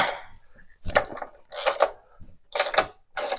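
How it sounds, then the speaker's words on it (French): A ratchet fitted with a 21 mm socket loosens nuts on a Peugeot 206 stabilizer link and control arm, giving several short bursts of rapid clicking and grinding, close and fairly loud, separated by brief pauses. "douille de 21, je dévisse ici"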